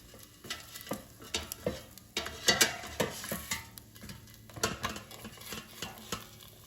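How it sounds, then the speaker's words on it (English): Cauliflower gnocchi tossed in a metal air fryer basket, giving a run of close, busy rattling and scraping clatters with faint sizzling between them, and no voice. "let's toss the gnocchi so they cook evenly"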